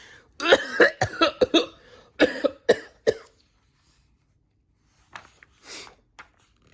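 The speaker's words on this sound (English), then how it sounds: "Clouds of billowing smoke made him cough and splutter." A run of harsh, rapid coughs close up from a man choking on billowing smoke from a fire, then a pause and a few softer, raspy coughs and splutters.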